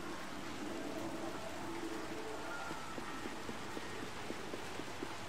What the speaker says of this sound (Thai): ฝนนี่คือตกทั้งเลือกเลยจริง ๆ